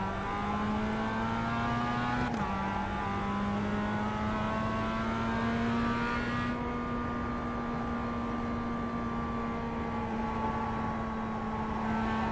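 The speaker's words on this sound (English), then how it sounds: "Okay, Paul, we've got 2 laps to set a decent time." A race car engine in a racing video game drones at a steady high pitch while driving laps, with a gear change or dip early on, loud and continuous with no talk.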